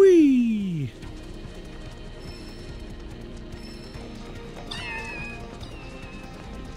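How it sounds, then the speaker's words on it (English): Cats meow in the video game Final Fantasy VII Rebirth: one loud, falling meow opens the clip, then a fainter meow comes later over quiet game ambience. "Oh, the cats!"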